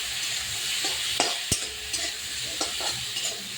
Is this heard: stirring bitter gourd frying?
yes